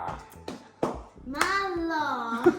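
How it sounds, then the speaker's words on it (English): A few sharp hand claps ring out at a kava session, spaced irregularly, followed by a child's or person's drawn-out voice calling out over them. "you clap your hands again"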